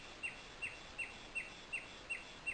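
A bird calls repeatedly from a short distance at a fishery lake, sharp chirps spaced evenly about every third of a second over faint background hiss.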